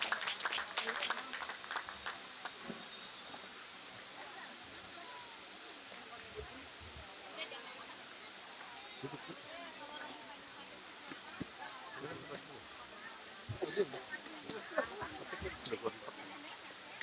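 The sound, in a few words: applause for the district head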